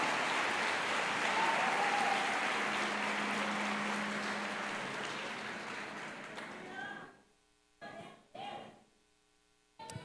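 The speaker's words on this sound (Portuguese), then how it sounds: "Quem pode aplaudir ao Espírito Santo aqui?" Church congregation applauding at a worship service, a broad wash of clapping that gradually tapers and stops, followed by a few short bursts of voices.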